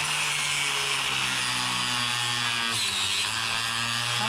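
Saw cutting steadily through a plumbing pipe clogged with sewage, a continuous rasping drone with a low hum underneath, close and fairly loud for about four seconds with no talking.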